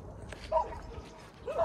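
A dog on a road gives two short, faint barks about a second apart, distant beneath low background noise and murmuring.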